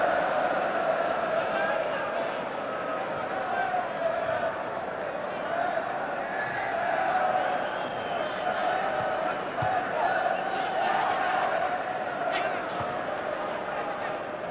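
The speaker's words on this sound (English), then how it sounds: "The crowd trying to launch an England revival in the last quarter of an hour" A football crowd at the 1984 England versus USSR match roars and chants in a steady, distant swell that lasts throughout, with a commentator talking over it.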